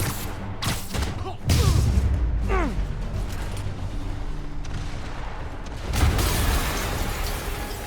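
Explosions from the PC version of the Spider-Man Remastered video game: a heavy blast with a low rumble, then a second, quieter boom a few seconds later, over a steady bed of game sound and voices.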